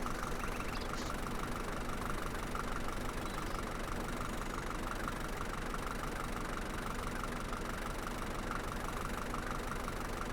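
A tractor engine idles in the farming game Farmers Dynasty, a continuous steady rumble with an even, unchanging drone throughout.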